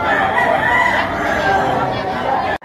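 Roosters crow amid steady crowd chatter and talking at a busy gamefowl sale of stags and roosters in the Philippines, the calls blending into a dense, loud din that cuts off abruptly near the end.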